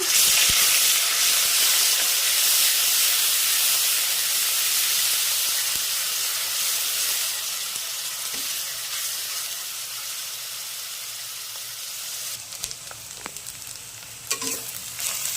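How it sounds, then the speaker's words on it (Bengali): Black cumin, a green chili and onion paste sizzle in hot oil, a loud, dense, steady frying hiss that eases slightly over time, with a few stirring clicks and scrapes near the end. "এবার ফোড়নে দেব হাফ চামচ কালো জিরে, একটা কাঁচা লঙ্কা। এবারে দিয়ে দেব পেঁয়াজ বাটা"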